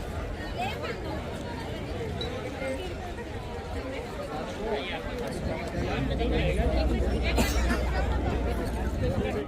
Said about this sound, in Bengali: অসম্ভব ভিড় হয়েছে আজকে